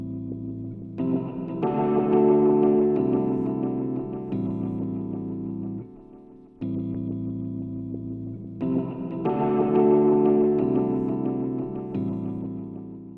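A modulated audio channel with delay and reverb sends in a mix: a looping, distorted instrumental phrase with echoing tails, playing twice with a brief dip between passes and no voices.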